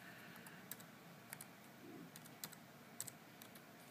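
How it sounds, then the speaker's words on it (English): Close computer keyboard typing while entering change-directory commands to install Android on an HP TouchPad, with sparse, irregular key clicks in small bursts over a faint steady hum. "Now here you want to type CD, change directory,"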